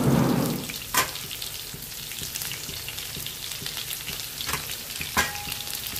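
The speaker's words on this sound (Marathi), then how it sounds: "त्यानंतर आपण कांदा उभा कापला तो कांदा टाकून घ्यायचा।" Sliced onion dropped into hot oil and stirred, a loud initial sizzle burst that settles into a steady frying crackle with occasional utensil clinks, no talking.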